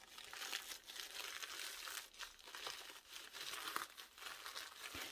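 Crinkling of a padded fabric journal cover with sewn pattern paper between wadding and fabric, a soft continuous crispy rustle with small crackles, close and quiet, no talking.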